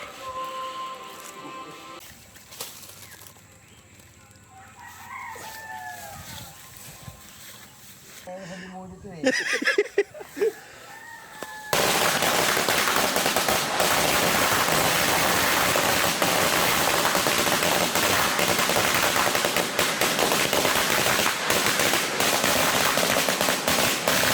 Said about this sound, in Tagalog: Ito testingin natin, no? Miracle Fireworks. 500 rounds.